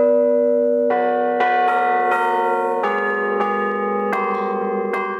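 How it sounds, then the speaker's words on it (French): Cathedral carillon bells, rung by hand, ring out one after another, each new strike adding a resonant tone over the lingering hum of the previous ones. "nous entendons une autre cloche voisine"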